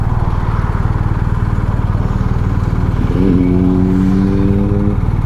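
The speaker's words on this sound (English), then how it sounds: "There are a lot of motorcycles here today." Motorcycles ride past on a sunny day near a stop sign: a steady engine drone rumbles throughout, then a nearby bike rises in pitch with a clear revving whine over the last two seconds.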